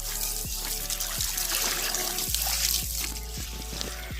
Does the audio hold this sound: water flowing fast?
yes